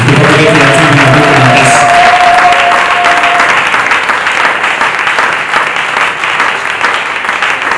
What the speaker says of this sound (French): Est-ce que tu peux continuer à acclamer pour Jésus?